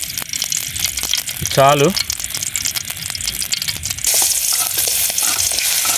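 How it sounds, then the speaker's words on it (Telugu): Cooking oil poured into a pan on a gas stove at a group campsite and stirred as it fries, a continuous close sizzle with scraping, briefly under a short spoken word. "కొంచెం ఆయిల్ వేసుకుందాం"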